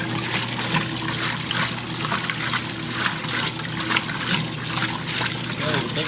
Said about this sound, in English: You can really see how the water is splashing out up here.